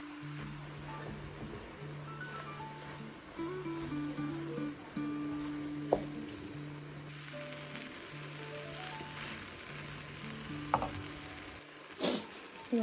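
Vegetable fried rice with spring onion stirred and tossed in a pan, giving a soft, steady scraping and sizzle that stays faint under a sustained background music tone, with a couple of sharper clinks near the end.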